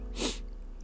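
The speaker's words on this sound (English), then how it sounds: "I want to sneeze." A single short, sharp sneeze bursts out close by, quick and breathy, followed by quiet.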